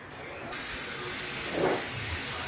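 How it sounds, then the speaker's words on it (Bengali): A pressure cooker on a gas stove releases a steady, loud hiss of steam that starts abruptly and swells briefly near the end, heard close up. "এই দেখুন এখন সিটি করবে"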